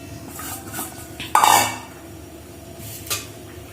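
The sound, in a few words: soaked sabudana being scooped out into a plate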